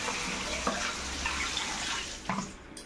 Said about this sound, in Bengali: ভালো করে একটু নেড়ে ধুয়ে নিচ্ছি।